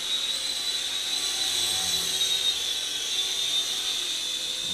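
A JunHeng J283 RC gunship helicopter in full forward flight on low rates gives off a steady, high-pitched electric motor whine with a rotor hum, continuous and fairly close, with no speech.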